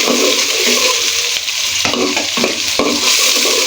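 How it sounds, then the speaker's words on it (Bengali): Whole spices — cinnamon, cardamom, black pepper, cloves — and bay leaf stirred in hot oil in a pan, a loud steady sizzle with several sharp scrapes of a spoon close up. "এখন এটা একটু নাড়তে হবে।"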